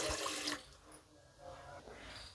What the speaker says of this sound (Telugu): వెడల్పు లాంటి పాత్ర ఒకటి పాత్రలో 2 గ్లాసులు వాటర్ వేసుకోవాలి